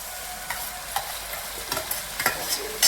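Tomatoes sizzle gently in a pan with drumstick pieces while a utensil scrapes and stirs in a few quick strokes.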